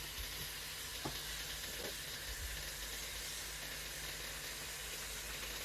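Lightly salted meat frying in a pan over medium-low heat, a faint, even hiss and sizzle running throughout with a couple of soft clicks early on.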